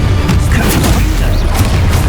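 A Confringo fire spell explodes in the Hogwarts Legacy video game as a loud, continuous, deep rumbling blast filling the whole short stretch, with no voices.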